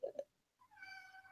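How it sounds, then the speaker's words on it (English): A house cat meows once, a faint, drawn-out wavering cry following a couple of short muffled sounds in a quiet room. "Is that your cat?"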